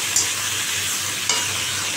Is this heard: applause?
no